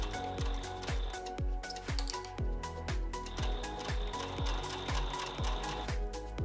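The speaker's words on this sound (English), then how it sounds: "go ahead and stitch your piece of fabric to your webbing. Stitch down both sides as close to the edge as possible." A sewing machine stitches nylon fabric to webbing, a steady rapid mechanical clatter of needle strokes repeating about twice a second, close and continuous.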